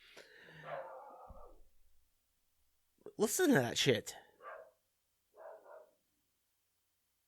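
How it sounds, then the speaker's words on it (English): A dog barks a few times in the background of an indoor room, loud bursts in the middle followed by a fainter short bark, with someone talking before them. "gonna hear a dog in the background"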